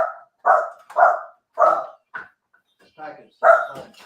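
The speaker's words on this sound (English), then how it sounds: "I'm sorry, my dog is going crazy." A pet dog barks excitedly indoors, a close, loud run of about seven sharp barks in uneven bursts with short pauses between them.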